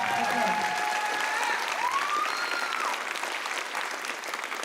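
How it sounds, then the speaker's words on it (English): Audience applause fills an Indigenous music awards show hall, a steady, dense wash of clapping with some cheering that carries on throughout at a fairly even, loud level. "Can you actually just start this with a round of applause before I even bring her up?"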